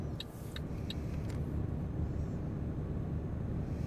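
A Mercedes Actros truck in Euro Truck Simulator 2 drives at speed, a steady low engine drone with a few faint clicks early on and no talk.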